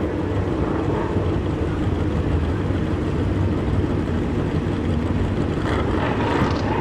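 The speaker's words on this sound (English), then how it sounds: "I'm sure you can hear that motorcycle in downtown Adel as loud as it is." A Buell EBR drag racing motorcycle engine roars loud and steady throughout, a dense, unbroken rumble at a drag strip with no voices.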